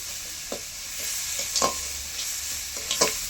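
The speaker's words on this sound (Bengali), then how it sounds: "মশলা তো ভালো ভাজা হয়ে গিয়েছে" Spice paste with Kashmiri chili powder frying in a pan for a prawn curry, a soft steady sizzle broken by a few scraping stirs of a spoon, close and alone.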